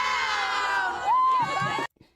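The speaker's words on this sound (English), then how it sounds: "Should we do one more cheer before I go?" A crowd at a hometown parade shouts a cheer in unison, a burst of loud massed voices and whoops from many people at once, with one piercing high voice rising over the rest before it cuts off sharply.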